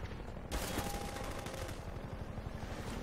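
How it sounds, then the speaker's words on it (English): An enemy firing at the player in the Half-Life 2 video game: sustained loud automatic fire with a steady rattling rhythm, starting abruptly after a brief quieter moment and continuing to the end. "He like gave up on dropping bombs on me and started shooting me."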